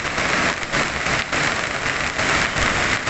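Heavy rain pours steadily onto the Gladak Perak highway road in a downpour that floods it, a loud dense hiss with slight swells and no voices.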